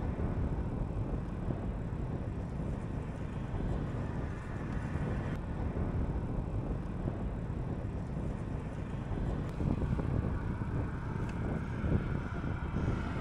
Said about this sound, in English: It's been windy, but it's kind of refreshing.